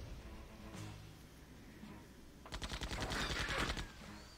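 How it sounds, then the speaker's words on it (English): Rapid bursts of automatic gunfire from the Septerra Core video game come in on a fast, steady rhythm for about two seconds, following quieter game ambience. "They are, however, continuing to shoot at Lobo, which is annoying."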